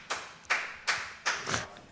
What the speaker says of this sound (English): Some vigorous clapping there